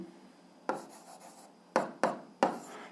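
Pen or chalk strokes writing an algebra answer for an 8th-grade exercise, heard as four short, sharp scratching taps at uneven intervals, fairly close and alone with no talking.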